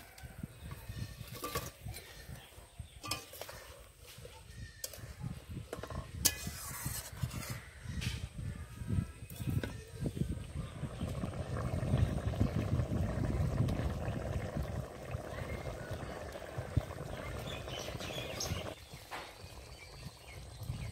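Ritha fish curry simmers in a pan with a soft, steady bubbling and sizzling that grows fuller midway, mixed with occasional clinks and light kitchen noises, fairly faint throughout.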